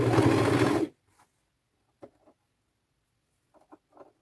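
A sewing machine stitches lace onto an upcycled thrifted top with a loud, dense run of whirring for just under a second, then stops, followed by a few faint scattered clicks and taps.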